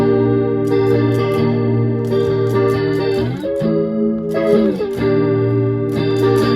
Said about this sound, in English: that's what the chorus sounds like, just chorus, and it sounds pretty good